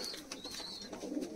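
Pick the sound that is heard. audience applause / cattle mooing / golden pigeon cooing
golden pigeon cooing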